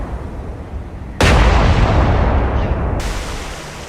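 Heavy naval gunfire from warships shooting high-explosive shells in the game War on the Sea, a sudden loud booming blast that swells into a long, dense rumble with a second surge late on, over a low steady background.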